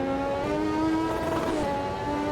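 A McLaren MP4/4 race car from the 1988 season howls at steady high revs around Imola in a racing video game, a loud, continuous engine tone that dips slightly in pitch mid-run with no voices.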